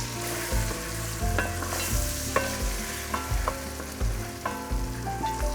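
Spices being stirred into lamb rogan josh in a pan, with a steady loud sizzle and repeated scraping clinks of a spoon against the pan at an uneven rhythm.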